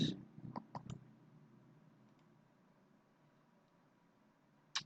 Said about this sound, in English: And right click on the internet adapter and click properties.